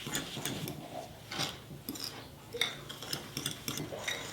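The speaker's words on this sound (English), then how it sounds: "I'm going to mix all of that together with a fork." A fork mixes pie crust ingredients with an egg in a bowl, producing quick, rhythmic clinks and scrapes close by, with no voices.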